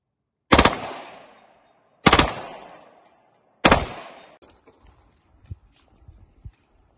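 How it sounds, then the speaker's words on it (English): Three loud, sharp bursts of full-auto gunfire from a CZ Scorpion on a steel-target range, each echoing and fading before the next, followed by faint scattered knocks and clinks. "CZ Scorpion"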